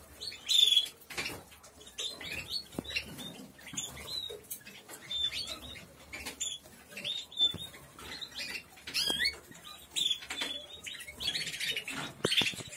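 Many small cage birds in an aviary chirp and tweet rapidly in high, busy bursts, with light fluttering and scratching, all close and continuous.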